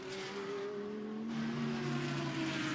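A BMW GT race car driven by Valentino Rossi sounds from a distance during qualifying at Misano, its engine note climbing as it accelerates, then shifting and climbing again.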